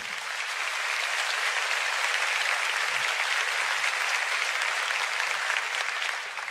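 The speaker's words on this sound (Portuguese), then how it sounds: "Você pode aplaudir ao Senhor" Sustained applause from a large church congregation, a dense steady wash of clapping that holds evenly throughout without a break.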